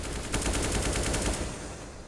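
Automatic gunfire from Counter-Strike during a professional esports match, fired through a wall, sounds as a fast burst of rattling shots that lasts over a second before fading into game ambience.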